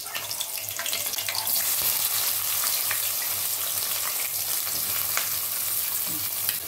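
Onions and green chillies fry in hot oil in a pan, a dense, steady sizzle with occasional stirring scrapes, continuous and close with no talking.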